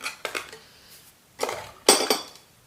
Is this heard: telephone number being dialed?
no